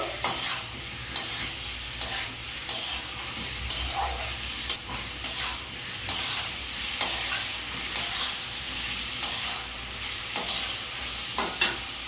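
Boiled, peeled potatoes are stirred into a sizzling pan of masala, with steady frying hiss and repeated scraping strokes of a spoon over about twelve seconds.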